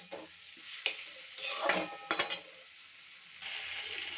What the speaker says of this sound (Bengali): তো আরেকটু করে নেবো, কষিয়ে নেবো আলু দিয়ে